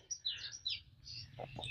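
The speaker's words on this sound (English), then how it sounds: "I can hear the birds tweeting away." Birds chirp and tweet in a clean, swept park area around eight in the morning, with short high calls repeating through the moment over quiet background.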